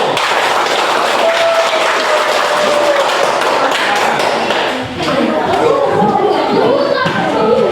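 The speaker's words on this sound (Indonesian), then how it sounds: "Kita berikan aplaus kepada kelompok 1" A classroom group gives applause, loud dense clapping mixed with chatter and voices from the crowd that fills the whole stretch.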